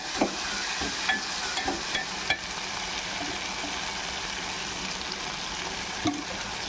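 Tomato masala fries in oil with a soft, continuous sizzle. Occasional light taps of a stirring spoon sound against the pan, moderately quiet and close, with no talking.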